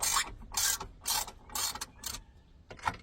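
A wrench loosens a bolt on a 2003-2006 Chevy Silverado or GMC Sierra towing mirror, giving five close, loud bursts of metallic ratcheting clicks with short pauses between them.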